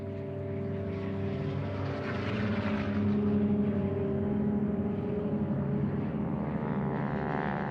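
A Spanish military propeller aircraft drones steadily overhead while dropping mustard gas over the markets of the Rif, a loud, continuous engine roar that swells slightly mid-way with no voices.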